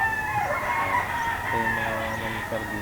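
A young gamefowl stag crows close by in a single drawn-out call with a second rise near the end, over low farmyard background noise.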